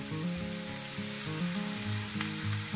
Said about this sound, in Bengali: এবার এটাকে আমি 3 থেকে 4 মিনিট ভাজবো